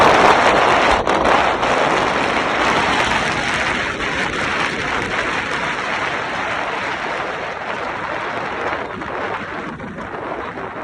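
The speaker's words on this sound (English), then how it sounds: "It is unbelievably windy out here." Strong outdoor wind buffets a microphone, producing a loud, continuous rushing roar with gusty rumbles and crackles that ease slightly toward the end.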